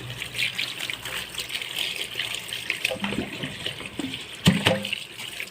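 Cassava shoots are rinsed by hand in water, with splashing and trickling, soft sloshing pulses and a few louder swishes near the end.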